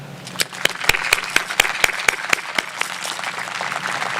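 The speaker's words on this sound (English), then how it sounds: "Let's please give this round of applause to them." Audience applause at a high school graduation ceremony, a crowd clapping steadily with a few sharp, distinct claps standing out near the start before settling into an even patter.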